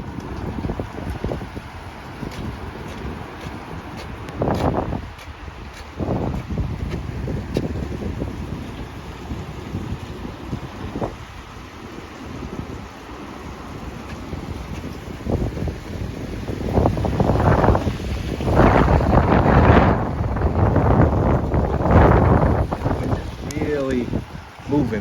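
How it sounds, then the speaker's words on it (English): Gusty wind buffets the microphone during a rainy walk with an umbrella in Howard Beach, Queens, giving a constant rumbling roar that swells into louder blasts toward the end. "this wind sound might make the video pretty hard to sit through"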